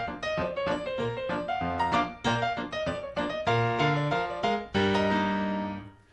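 Lively syncopated ragtime piano, played without the sustain pedal, with crisp, detached chords and bass notes in a bouncing rhythm, each note short and dry until a final ringing chord.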